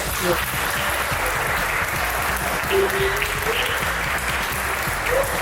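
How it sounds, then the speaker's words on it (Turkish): Crowd claps for the coaches of the U12 and U15 youth championship teams at a Küçükçekmecespor club gathering, steady loud applause throughout with a voice talking faintly underneath. "Emeklerinden dolayı öncelikle hocalarımıza bir alkış"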